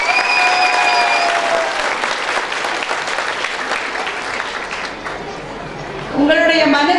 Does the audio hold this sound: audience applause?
yes